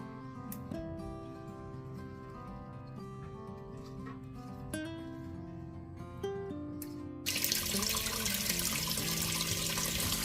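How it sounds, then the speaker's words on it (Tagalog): Salad leaves are washed in water: a strong, steady rush of running water suddenly begins in the final few seconds, following a quieter tonal background. "hugasan muna natin itong mga dahon"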